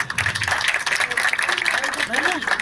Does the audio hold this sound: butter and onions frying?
no